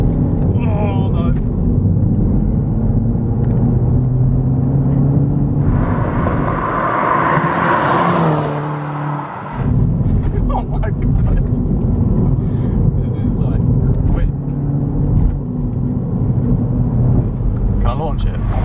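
A remapped Mini Cooper S engine pulls hard through the gears, its loud roar rising and dropping with a brief lull at a shift before surging again, with people talking over it inside the car.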